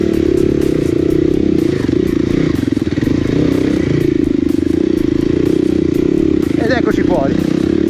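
An enduro motorcycle races through woodland on compact sandy ground, its engine droning loud and close throughout while a rider talks over it.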